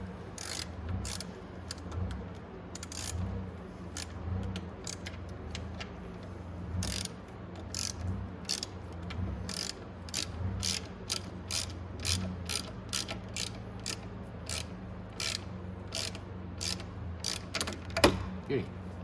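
Ratchet wrench tightening bolts on the voltage rectifier of a Venom x22 125cc motorcycle, giving a long run of sharp, rapid clicks in bursts over a low background hum, close and fairly loud.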